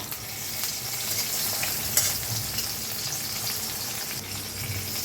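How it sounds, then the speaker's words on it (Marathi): An egg is fried and slowly turned in a pan with salt and turmeric, a steady close sizzle with soft scraping strokes from the spatula running throughout. "आता काय करायचं सावकास फिरवून घेऊया अंड्याला"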